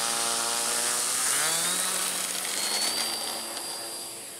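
A model J3 Cub airplane's small engine whines loudly during takeoff, the pitch rising and then sweeping up as it climbs and passes, fading slightly at the end.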